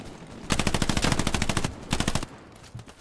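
Automatic gunfire in the World War II shooter Hell Let Loose, on the Mortain map, comes as two loud, rapid bursts: a long rattling stream of shots followed by a shorter volley, then a quieter lull.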